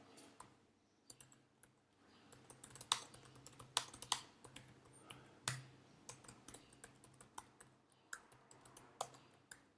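Typing on a computer keyboard comes through as quiet, irregular clicking keystrokes close by, in bursts with brief pauses over about ten seconds.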